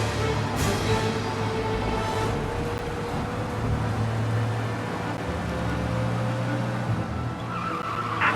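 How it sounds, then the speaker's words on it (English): Car driving fast to escape pursuers in the Mafia Definitive Edition video game, a sustained loud engine roar with road and tire noise that stays constant throughout, no talk. "We lose them by driving real fast and getting clear of them."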